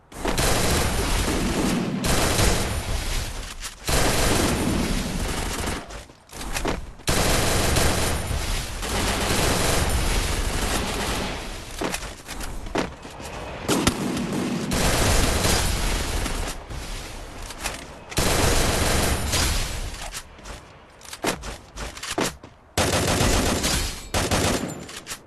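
Rapid gunfire and bursts of automatic fire from the battle royale video game Free Fire during a quadra kill, loud and nearly continuous with brief gaps, mixed with game effects and no talk.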